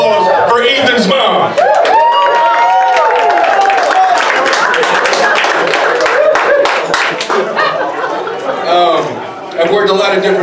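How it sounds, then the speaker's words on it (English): A comedy club audience claps and cheers for a comic's mother during an open mic night, clapping rising and falling under excited voices and chatter, with people talking and calling out over it. "Everyone, can you please give a round of applause for Ethan's mom?"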